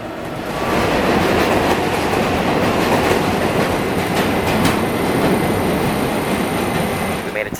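A New York City subway train ride, with a loud, steady roar of wheels and track noise swelling in after a brief moment and holding constant, with faint squeals near the end.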